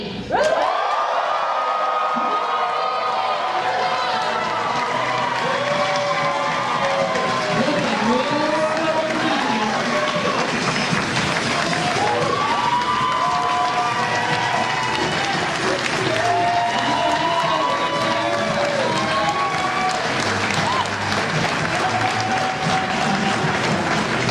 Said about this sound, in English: a loud cheer to get the couple in here and get them excited